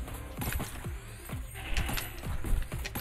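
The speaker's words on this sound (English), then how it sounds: "That sound like a bunch of goats." Clattering, goat-like bleats and scrabbling in the video game Neon Abyss, a busy run of short overlapping hits over steady game background.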